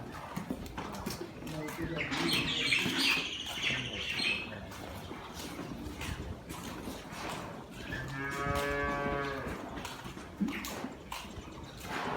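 A cow moos once, a long, drawn-out low call in the second half. Voices talk throughout, mixed with farmyard background noise and a few bird squawks.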